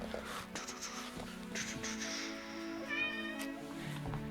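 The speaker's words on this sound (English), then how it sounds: "You can probably hear the cat in the background." A cat meows repeatedly nearby, drawn-out plaintive calls rising and falling over a few seconds with no talking.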